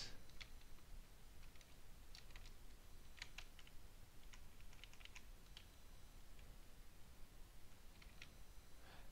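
Steady typing on a computer keyboard while entering Python code, a quiet run of light clicks in irregular bursts over faint room hiss, with no voice.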